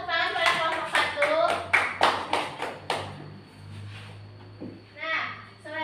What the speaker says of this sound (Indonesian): kita beri tepuk tangan pada kelompok 1